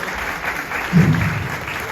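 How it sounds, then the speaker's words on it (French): Audience applause for a presenter at a live quiz challenge concert, a steady wash of clapping with a brief louder swell midway, heard from some distance. "Applaudissez-la s'il vous plaît."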